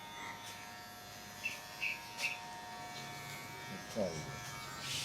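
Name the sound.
electric clippers shaving a man's head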